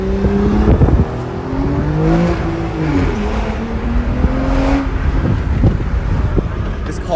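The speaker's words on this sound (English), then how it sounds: "you guys are gonna get to hear the exhaust kind of bounce off the buildings" Aston Martin exhaust echoing off city buildings on a cold day, a loud, close engine note that rises and falls in pitch with several revving swells, mixed with wind buffeting.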